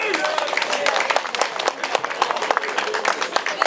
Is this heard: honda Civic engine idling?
no